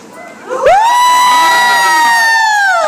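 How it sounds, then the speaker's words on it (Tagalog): One section of a congregation at a healing service shouts together on cue, a sudden loud collective yell that swells quickly and is held steady for over two seconds. "Subukan nga nating sumigaw itong pulutong lang na ito. Sigaw kayo."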